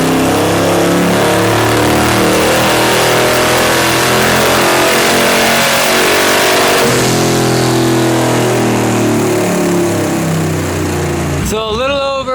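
A twin-turbo LS engine roars loudly on a dyno, holding a long sustained pull with shifting pitch, then cutting off near 5,600 RPM before a brief voice and the fading spool-down.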